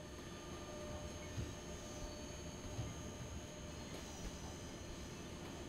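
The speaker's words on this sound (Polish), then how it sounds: "Toczy się tutaj nasz składzik. Z węglarkami." A heavy SimRail freight train hauled by an E186 locomotive rolls along with coal wagons, a steady low rumble of wheels on rails with faint clacks, constant and fairly distant, with no talk.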